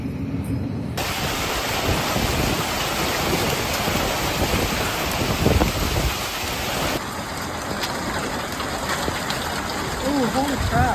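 Heavy torrential rain pours steadily through a late-September thunderstorm in Arizona, a dense continuous wash of rain loud and close, with thunder rumbling underneath and a brief shift in texture midway.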